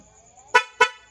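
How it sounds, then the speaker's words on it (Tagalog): Two short, loud horn beeps from a Honda XRM110 motorcycle's loud horn sound in quick succession, close by, after a moment of quiet. "loud horn,"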